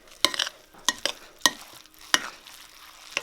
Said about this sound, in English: Alright, so we just gotta mix this up.